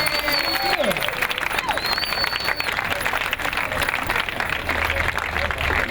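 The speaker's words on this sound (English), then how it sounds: "give another round of applause" An audience applauds at an art event, with dense, steady clapping throughout and a few whistles and raised voices mixed in.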